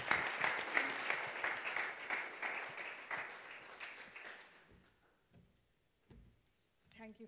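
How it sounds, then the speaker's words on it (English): Audience applause at a conference welcoming Sheikha Dr Alia Humaid Al-Qasimi on stage, a dense, steady patter of many hands that fades out over several seconds, leaving quiet room sounds and a brief shuffle near the end. "could you give a round of applause as we welcome Sheikha Dr."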